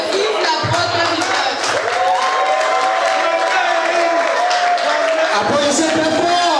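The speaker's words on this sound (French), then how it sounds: "Applaudissez très fort. Applaudissez encore très fort." Audience at a year-end ceremony in 2009 cheering and clapping, a broad crowd roar with whoops filling the space while a voice speaks over it.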